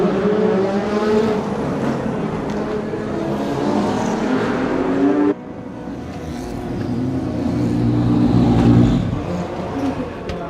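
Ford GT race cars compete at Le Mans 2016, their engines producing a loud, continuous roar that rises and falls. There is an abrupt cut midway, and the rumble swells again toward the end.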